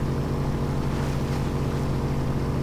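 Steady, droning engine hum of a Volkswagen Touareg under throttle in the Spintires off-road driving game, a constant loud mechanical rumble with no breaks.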